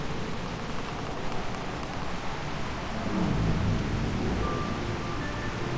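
A storm in the video game Reverse 1999, heavy rain pouring continuously with low rolling thunder swelling partway through, dense and enveloping with no voices.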